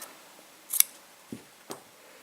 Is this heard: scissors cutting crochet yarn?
yes